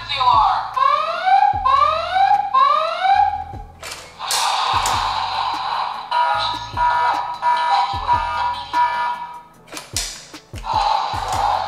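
A toy volcano escape playset sounds an electronic alarm, with repeated rising siren sweeps at the start and then steady buzzing alarm tones, broken by plastic thuds and clicks as toy cars are moved around.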